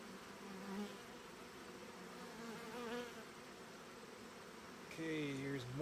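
Honeybees buzz steadily inside the brood nest of a hive in September, a low continuous hum with a few sharper close wingbeat whines near the end.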